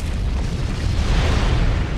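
A deep, rumbling video game explosion in Asura's Wrath rolls on steadily, booming and heavy with a wide noisy wash and no voices.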